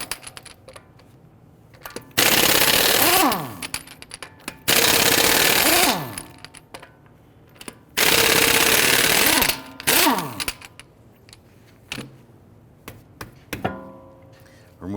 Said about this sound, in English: Using a 22mm socket, let's loosen and remove our lug nuts.